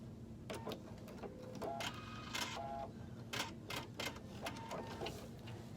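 A sewing machine running short back-and-forth back stitches on a cork handbag, giving quick mechanical whirring bursts with small clicks over a low steady motor hum.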